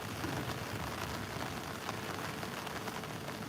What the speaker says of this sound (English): As you see, is the strong rain.